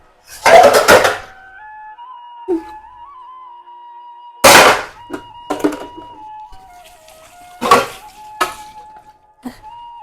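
Metal pots and dishes clatter in a household kitchen in three loud separate bursts, with quieter knocks between them and a steady tone behind.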